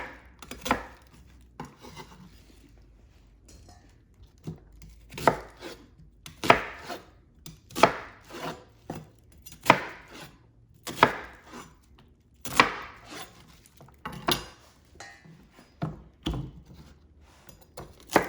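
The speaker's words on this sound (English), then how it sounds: "Rough chop that onion." An onion is roughly chopped on a cutting board, with a knife striking the board in irregular bursts of sharp, close knocks for about eighteen seconds, without talking.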